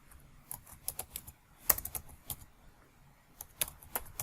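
Quick, uneven taps on a computer keyboard, typed in short bursts with small pauses, quiet and close with no voice over it.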